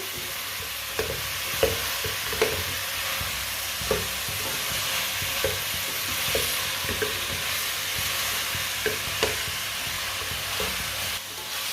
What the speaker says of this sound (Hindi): लाजमी गोभी को थोड़ा सा भून लेना, पका लेना इसे 2-3 मिनट के लिए ना